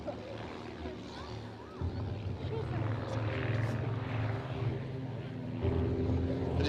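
An old BA4 biplane flies an aerobatic display over an airfield at an air show, its propeller engine droning at a moderate distance and swelling louder as it manoeuvres, with a commentator's voice faintly present.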